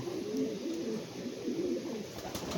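A pigeon coos in soft, low, repeated rolling calls against a steady background hiss, fairly close with no voices.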